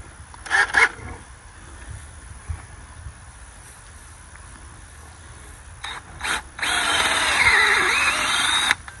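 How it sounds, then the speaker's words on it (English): A power drill bores planting holes in garden soil, whirring briefly a couple of times, then running in a sustained, louder whine near the end, with quiet rustling in between. "You don't have to get crazy with the drill, okay?"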